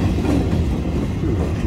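A Norfolk Southern freight train rolls past with a Lake Erie boxcar, giving a steady, loud low rumble of wheels and rail noise close by, with no gaps for the whole stretch.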